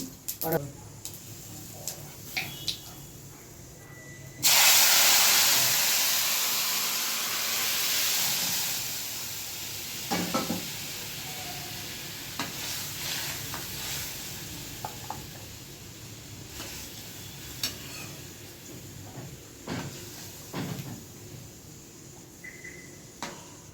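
Tempering for urad dal in a Gujarati home kitchen bursts into a loud sizzle as it hits the hot pan, then settles into a steady hiss with occasional clinks and stirring while a person talks nearby.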